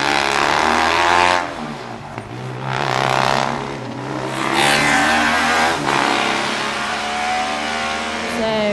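A Formula Student race car at the 2012 FSC endurance finals roars past on track, its engine revving loud and close with a sweeping rise and fall, under a commentator's talk.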